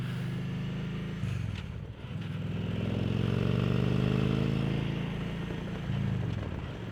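A motorcycle engine rumbles steadily close by, its low exhaust note dipping briefly and then swelling again in a continuous drone.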